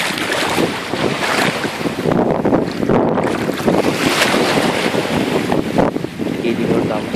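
Sea waves wash onto a beach while wind buffets the microphone, producing a loud, continuous rushing roar with surges of surf and gusts.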